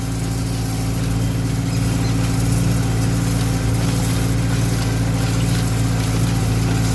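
Tractor pulling a hay rake across a field, laying a large windrow for round baling; a steady, loud engine drone with a low rumble runs unbroken throughout, with no talking.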